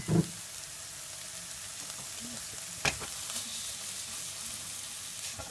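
Bean sprouts stir-frying in a hot pan, a soft continuous sizzle with an occasional louder clack of a utensil against the pan, heard close and alone.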